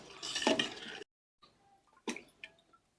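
A spoon mixes the six flavour ingredients of Ugadi pachadi in a bowl, making short clinking and scraping bursts separated by pauses of silence.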